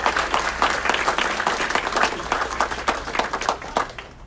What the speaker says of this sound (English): Let's give our parents and family members a round of applause.